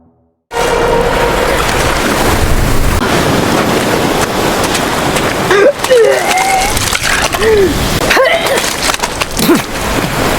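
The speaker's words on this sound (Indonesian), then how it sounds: "rakit Bradley langsung rangsak setelah dihajar ombak besar" Large ocean waves crashing against a small makeshift raft at sea, a loud, close, rushing roar of surf and wind that runs continuously, with scattered higher cries and whooshes breaking through partway.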